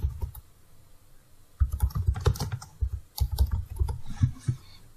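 Keyboard shortcuts are typed on a computer keyboard in Microsoft Word, a quick pause followed by two dense bursts of close, clattering key presses, with no voices.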